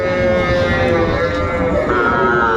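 At the Ambari cattle market in Dinajpur, young bull calves low in one long, loud, sustained moo close by, with market murmur underneath.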